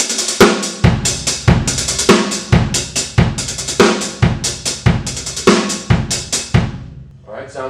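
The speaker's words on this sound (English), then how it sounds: "we turn them into doubles, create a 5-stroke roll at the beginning of our group of 5." A drum kit plays a linear pattern with hi-hat double strokes, a five-stroke roll and accented snare hits, a brisk repeating groove of sharp, close strikes in steady groups.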